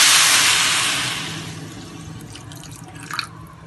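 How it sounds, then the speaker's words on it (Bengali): Water being poured into a pot of rice and lentils for khichuri, a steady rushing splash that tapers off gradually, with a few faint drips and clinks near the end, close up and with no voices. "মেশানো হয়ে গেলে দিয়ে দিন জল।"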